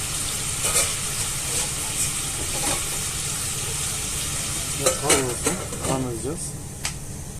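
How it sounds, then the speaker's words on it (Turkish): Lamb shank sautéing in a covered pot, a steady close sizzle and frying hiss throughout with a few stirring clatters, while a person talks over it. "Evet şu anda gördüğünüz kavruluyor."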